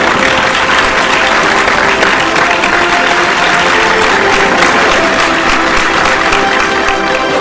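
A hall audience gives a loud, sustained round of applause for an award winner at a science awards ceremony, dense steady clapping throughout with faint music beneath.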